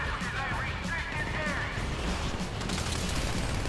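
Gunfire in the video game GTA V during a bank heist escape, a dense, steady wash of shots and chaotic action noise throughout, with no clear individual reports standing out.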